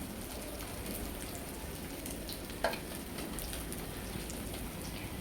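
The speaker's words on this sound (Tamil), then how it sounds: "இந்த எண்ணெயிலேயே இந்த உருளைக்கிழங்கு கொஞ்சம் நல்லா வறுபடணும்" Baby potatoes fry in hot oil with a steady, fine crackling sizzle, like light rain, quiet and continuous with one brief clink partway through.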